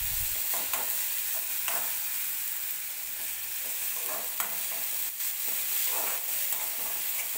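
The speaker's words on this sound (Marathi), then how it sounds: "हिरवी मिरची व्यवस्थित भाजून घ्यायची तेलामध्ये।" Green chillies fry in oil with onions in a pan, giving a steady close sizzle with occasional stirring scrapes and no talking.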